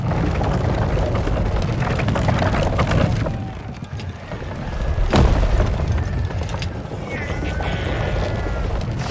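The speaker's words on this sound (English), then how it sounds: "Cannon!" A heavy cannon boom hits midway through a loud, chaotic battle din of rumbling, clattering and shouting voices, with the noise swelling again afterward.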